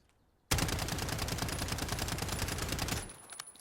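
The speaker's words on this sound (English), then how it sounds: "this gun fires around 652 rounds per minute after a fire rate test" A Striker .45 (UMP 45) fires one sustained automatic burst of about two and a half seconds during a fire rate test. The rapid, evenly spaced shots are loud and close, then cut off abruptly into quiet.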